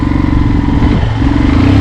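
A motorcycle engine drones loud and close on a Ladakh mountain pass. The engine note is rough and continuous, with a slight rise in pitch toward the end.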